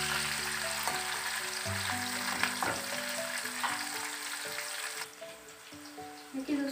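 Chopped onions frying in a pan until lightly browned, giving a dense, continuous, close sizzle with occasional stirring scrapes, fading slightly toward the end, with no talk.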